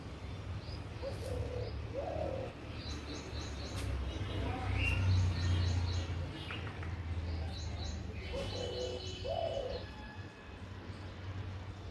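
Birds being fed coo softly and chirp in short repeated phrases over a low, steady background hum, moderately close and without any talking.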